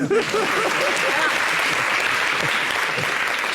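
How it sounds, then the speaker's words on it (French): Studio audience on a French-language talk show set applauds in a sustained, dense round of clapping, with a voice faintly audible under it at the start. "On applaudit."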